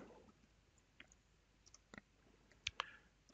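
Keyboard keys clicked one at a time while a database command is typed, sparse and quiet at first, then a few sharper, louder clicks near the end against a near-silent background.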